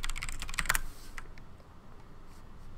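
Rapid keystrokes on a computer keyboard, a quick burst of close clicking clatter that stops after about a second, leaving quiet room tone.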